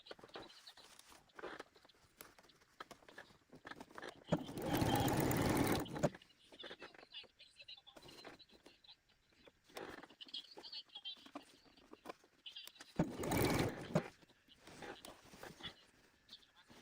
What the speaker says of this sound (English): And then we just sew it all the way around, 5/8 inch seam allowance.